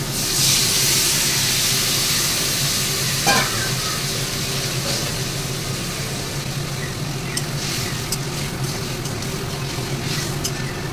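Fish curry sizzles and hisses loudly in a pan after a little water is poured in. The steady frying crackle carries on throughout, with a brief stirring or scrape partway through.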